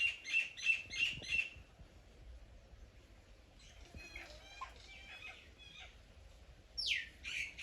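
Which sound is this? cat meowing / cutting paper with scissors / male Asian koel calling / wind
male Asian koel calling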